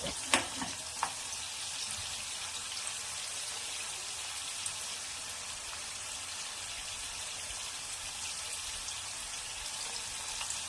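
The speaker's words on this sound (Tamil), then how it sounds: "இந்த வெள்ளைப்பூடை வந்து ஃபுல்லாக போட்டுட்டு அதை கொஞ்சம் நல்லா வறுத்துருங்க" Garlic cloves fry in hot oil for a South Indian garlic kulambu, giving a steady, even sizzle from start to finish, with a couple of sharp clinks from stirring near the start.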